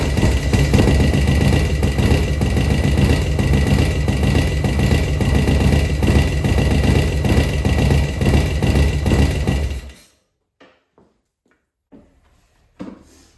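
A Harley-Davidson Sportster flat track motorcycle engine with the choke out runs loud and steady at a rough idle for about ten seconds, then cuts off abruptly, leaving near silence broken by faint clicks.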